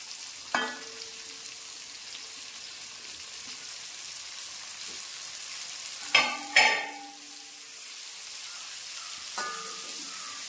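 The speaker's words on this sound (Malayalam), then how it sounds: "ഇതിലോട്ട് തന്നെ ഇട്ട് നമ്മുടെ ഈ സവാള എല്ലാം ഒന്ന് മൂപ്പിക്കാം. ഹൈ ഫ്ലെയിമിൽ ഇട്ട് വേണം." Onions fry on high flame in a pan for chicken kondattam, a constant sizzle broken by a few sharp spatula scrapes and clatters.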